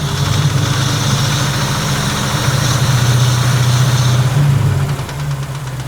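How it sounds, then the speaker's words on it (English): A 1961 Rambler engine idles loudly and close, its steady running carrying a rapid, light mechanical ticking or knocking throughout, dropping slightly in level near the end. "That's a mechanical noise. But it just sounds too light to be a rod knock."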